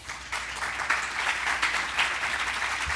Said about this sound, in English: I would please ask from you a round of applause for our panelists.